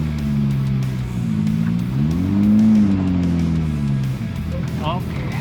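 A Suzuki Jimny Katana's engine hums in first gear on an off-road dirt slope, the pitch rising and falling as it revs gently. Someone talks briefly over it.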